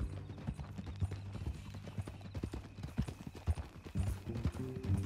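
Hooves of a horse in a Western video game clip-clop in a steady walking rhythm, close and moderately loud, with faint ambient ground noise and no talking.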